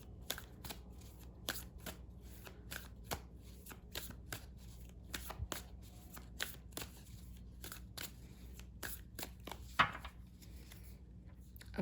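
Tarot cards being shuffled by hand, a steady run of crisp, quiet snaps and riffles repeating for several seconds with no talk.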